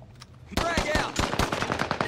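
Rapid automatic gunfire from the Call of Duty Warzone video game, a loud rattling burst of closely spaced shots that starts abruptly and keeps firing, with faint voices mixed in.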